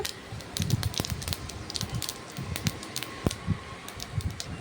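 Mustard seeds and urad dal spluttering in hot oil, a busy stream of small pops and crackles over a steady sizzling hiss, close by and continuous, with no talk.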